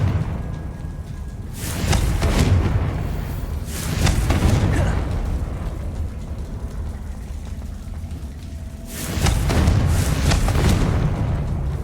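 Confringo blasting spell explosions in the video game Hogwarts Legacy: three deep, booming blasts a few seconds apart, loud and close over a low rumbling background.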